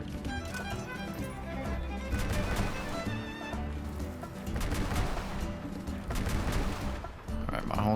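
Gunfire from vehicles shooting bots in the combat game Crossout, a dense steady stream of rapid shots under a constant engine and battle din, loud and continuous, with talk mixed in.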